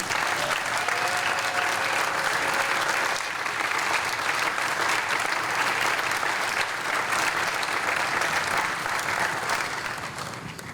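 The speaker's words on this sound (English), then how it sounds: "So how about a round of applause for Julie?" A summer concert audience at a municipal band performance breaks into sustained, loud applause that stays dense and even for several seconds before starting to taper off near the end.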